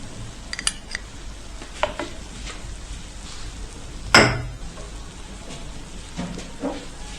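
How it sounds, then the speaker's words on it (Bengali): Two eggs go into hot oil in a pan, giving a soft, steady sizzle. Scattered light clinks of utensils and one sharp, louder crackle partway through stand out against a quiet background. "এই তেলের মধ্যে আমি এই ডিম 2টা দিয়ে দিব।"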